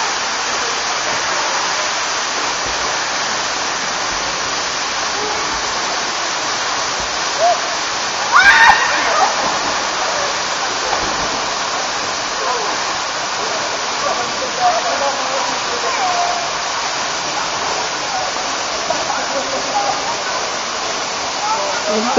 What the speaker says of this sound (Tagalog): Ito po yung Katibawasan Falls. Ang taas-taas niya.